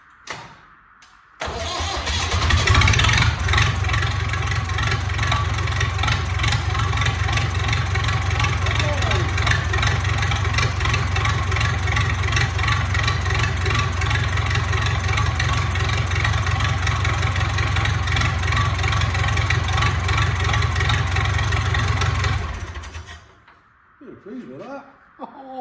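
A Massey Ferguson MF 168 tractor engine cranks, catches and settles into a steady, loud diesel run for about twenty seconds, then shuts off, with a voice briefly heard afterward.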